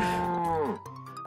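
A cow moos in the video game Deeer Simulator, one long, loud, tonal low call that bends downward and then trails off, heard close and alone.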